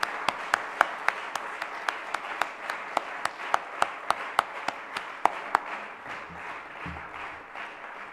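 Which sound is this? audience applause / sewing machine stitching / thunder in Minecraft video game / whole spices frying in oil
audience applause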